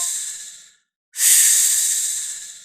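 Two loud, breathy snake hisses, close up and isolated: a fading first hiss, a short silence, then a longer, stronger one that slowly tapers off.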